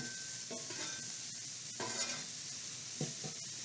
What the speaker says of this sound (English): What if I just toss them on here? Just let them cook up, you know?